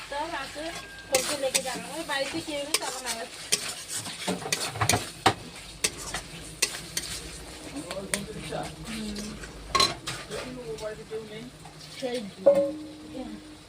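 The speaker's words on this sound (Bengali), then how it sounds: "মশলা কষা হচ্ছে" Spice paste fried in oil in a pan until reddened, with a spatula scraping and stirring in irregular bursts over a low sizzle while someone talks throughout.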